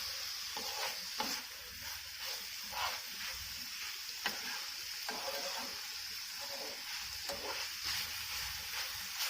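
Minced meat sizzles in a pan with a spoonful of tomato paste while being stirred, a steady quiet frying hiss broken by soft, regular scraping strokes of the spoon.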